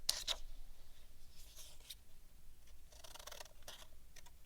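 Short snips of scissors cutting paper triangles for an asymmetrical mosaic art project, a few quiet close cuts spaced across a calm room with no talking.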